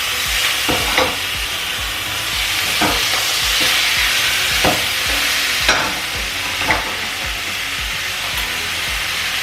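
Beef frying in vegetable oil in a hot pan gives a steady sizzle, with periodic short stirring scrapes and clinks across it, close and fairly loud with no talk.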